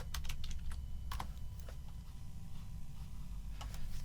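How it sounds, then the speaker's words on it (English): Rapid keystrokes on a computer keyboard as an office address is typed, coming in quick clustered bursts with short pauses, close and clear over a low steady room hum. "I'm just going to type in the address"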